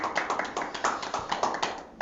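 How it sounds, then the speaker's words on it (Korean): An audience claps after a lecture in an education course, a lively crowd applause of rapid overlapping hand claps, fairly close and steady for about two seconds before cutting off. "다시 한번 뜨거운 손뼉 부탁드립니다"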